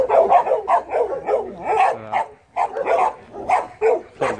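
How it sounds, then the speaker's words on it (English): Dogs bark near a gate, a close run of loud woofs and yips in quick bursts with a brief gap in the middle. "Dogs love to bark."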